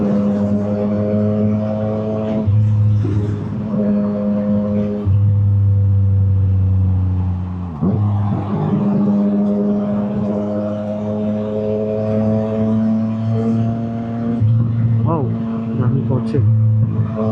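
City traffic in Makati gives a loud, steady engine drone with shifting tones as vehicles idle and pull away close by, plus occasional faint clatter.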